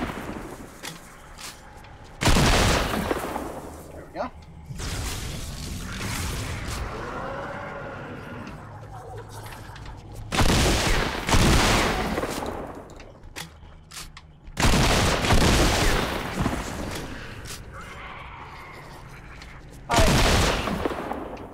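Shotgun blasts in Fortnite, four or five loud, widely spaced booming shots a few seconds apart, with quieter in-game ambience and scattered sounds between them.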